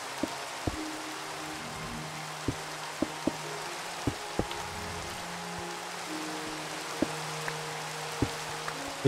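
Rain falls steadily in the Minecraft modpack SkyFactory 3, a soft continuous patter with occasional sharper drop-like taps scattered throughout, heard alone at a moderate level.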